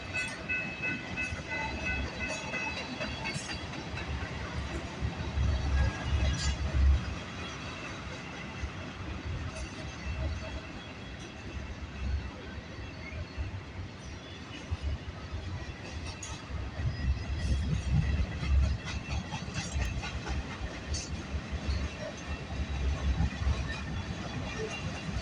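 A long freight train rumbles past on the tracks, with a steady heavy roll and swelling low rumbles as cars go by, plus faint squeals and rattles throughout.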